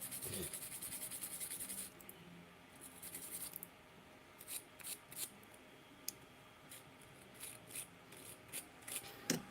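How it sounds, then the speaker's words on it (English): A stainless steel wire brush scrubs a 3D printer during maintenance after an ooze problem, giving quiet scratchy strokes in short irregular bursts over faint background hiss. "this stainless steel brush actually works really well"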